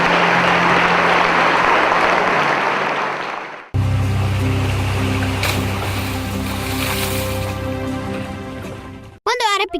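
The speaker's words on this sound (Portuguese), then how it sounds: "Vamos dar um aplauso ao Senhor pela vida de cada pessoa." Church congregation applauding during a worship program, a thick wash of clapping for about three and a half seconds that cuts abruptly to a voice speaking over music.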